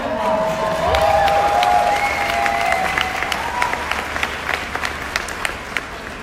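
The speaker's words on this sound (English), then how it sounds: "Give a round of applause." Convention audience applauding loudly, a dense crowd clapping that swells early and then continues steadily with some sharp individual claps standing out, faint cheering mixed in.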